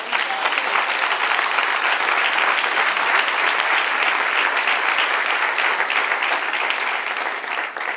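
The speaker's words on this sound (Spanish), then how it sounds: "Denle un aplauso al Señor." A church congregation applauds during a class on the Old Testament, with loud, continuous clapping that stays even throughout and fades slightly at the very end.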